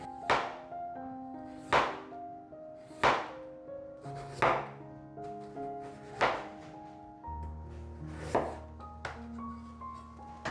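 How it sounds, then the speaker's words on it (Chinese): A knife slices carrots on a cutting board in a home kitchen, about eight firm, evenly spaced knocks against wood over soft background music. "把红萝卜切片"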